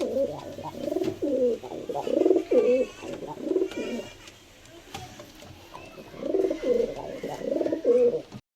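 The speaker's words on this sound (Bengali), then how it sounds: "এটা নর পায়রা" A male Madrasi pigeon coos close by in repeated throaty, rolling bursts, with a short pause midway before the cooing resumes.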